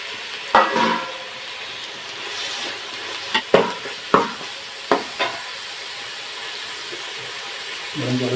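Quail biryani masala sautéing in a pan, a steady low sizzle of frying with several sharp clanks and scrapes of a stirring spoon against the pan, close and fairly loud, with no talking.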